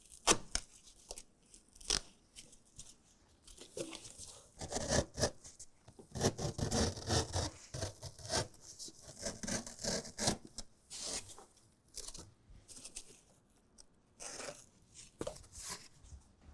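A blade scrapes and rasps through a rubbery Husky Liners Guardian Comfort floor mat in a 2024 Ford Transit van, giving quiet, irregular cutting and rubbing strokes with occasional sharper snips, close by and fairly faint.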